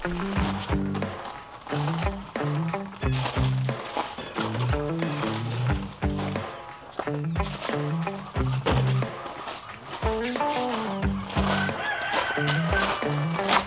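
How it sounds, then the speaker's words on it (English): A flock of chickens clucks close by, many overlapping calls in a constant busy chatter, with louder squawks rising now and then. "we got some more chickens to move"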